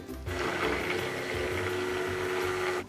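An electric blender whirs steadily as it blends a flan mixture of eggs and vanilla, a loud continuous motor drone with a grinding buzz that starts abruptly and runs without pause.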